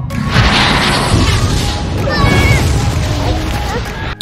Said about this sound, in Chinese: 所有的病毒都在发射出闪电后发生了大爆炸